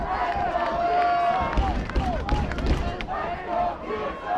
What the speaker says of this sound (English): Let's go Kearsarge, the chant from the Cougar faithful.